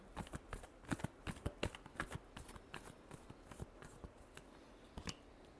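Tarot cards shuffled by hand, a quick run of soft, close riffling flicks and slaps in an uneven rhythm, fairly quiet and with no talk over it.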